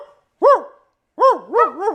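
A man imitates a dog barking, giving one short woof followed by a quick run of three rising-and-falling barks, close and loud with silence between.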